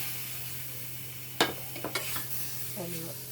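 Tuna pieces frying in a pan on a steady, close sizzle, with a sharp scrape of stirring and a few clinks of utensil against the pan partway through, no voices.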